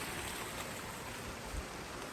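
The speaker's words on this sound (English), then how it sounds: "Little waterfall." Steady rushing water from a small waterfall in Zion pours continuously, a broad splashing hiss like a small cascade, close by and unchanging, with no voices.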